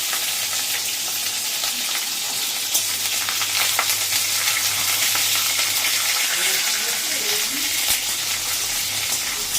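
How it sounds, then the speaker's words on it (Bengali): Bay leaf and panch phoron spices crackling in hot oil in a pan, a steady close sizzle with faint pops and occasional stirring, mostly alone. "তেলে যে তেজপাতা ফোড়ন দিলাম, দিয়ে এই যে পাঁচ ফোড়ন দিয়ে দিলাম একটু"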